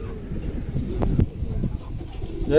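Pigeons kept in pairs for sale at a market coo softly and intermittently over a constant murmur of background noise.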